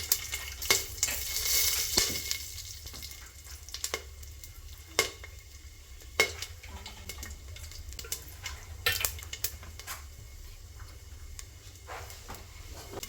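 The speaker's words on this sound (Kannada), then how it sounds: "ಇಲ್ಲಿ ಸೋಂಪು, ಚಕ್ಕೆ, ಲವಂಗ, ಏಲಕ್ಕಿ ಮತ್ತು ಇದು ಹೂವು ಇದೆ, ಪಲಾವಿಂದು ಹೂವು ಎಲ್ಲ ಮಿಕ್ಸು ಎಲ್ಲ ಒಗ್ಗರಣೆಗೆ ಹಾಕ್ಕೊತಾ ಇದ್ದೀನಿ" Fennel, cinnamon, clove, cardamom and dried flower spice crackle in hot oil for a tempering, with soft, steady sizzling broken by sharp pops and stirring clicks at irregular intervals.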